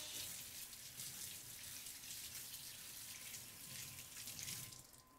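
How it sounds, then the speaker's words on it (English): Tap water runs steadily into a sink during handwashing, a close, continuous hiss and splash that fades out at the end. "go wash your hands"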